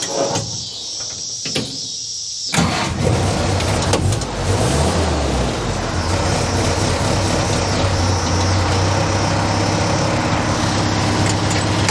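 A motor with carburetor trouble turns over and then runs roughly, a loud, steady close-up drone that follows a brief burst of start-up noise and struggles to stay running.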